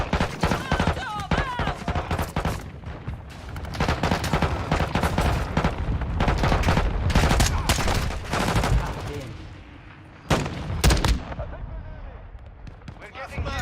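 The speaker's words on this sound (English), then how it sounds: "Our mortar strike is inbound." Dense bursts of rapid automatic gunfire and heavy impacts from a mortar strike fill a Call of Duty: Modern Warfare II battle, loud and continuous with short lulls, while voices talk over the combat.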